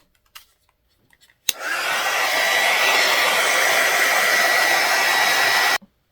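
A hair dryer starts abruptly after a few faint clicks, blowing with a steady loud whoosh for about four seconds before cutting off.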